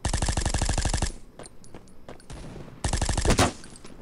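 Rapid automatic gunfire from the shooter game Bullet Force, a loud sustained burst of shots, a pause with scattered bangs, then another dense volley near the end.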